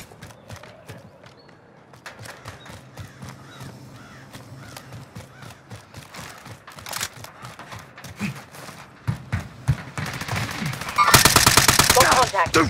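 Video game gunfire cracks in rapid bursts and single shots, growing louder and denser toward the end, mixed with other game sounds.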